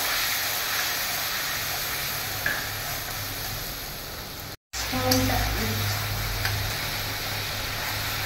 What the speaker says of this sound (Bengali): আমার পেস্ট তৈরি করা আছে যেটা, সেটা দিলাম। একটু কষাবো।